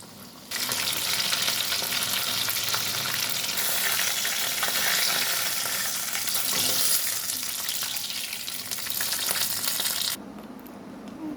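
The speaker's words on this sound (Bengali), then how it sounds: "এইভাবে সব কটা মাছ ভেজে নেব" Bombay duck (lote) fish fries loudly in hot oil, a dense steady sizzle running alone for about ten seconds before dropping to a softer hiss.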